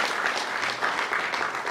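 An audience at a Ghanaian charity foundation event claps steadily in dense, sustained applause throughout.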